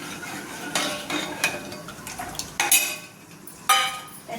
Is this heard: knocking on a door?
no